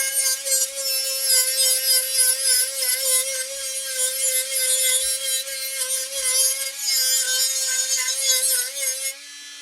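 Powered sanding disc spinning against wood, a steady high whine with a rough rasping edge that holds for several seconds before easing off at the end, close and loud with no talking.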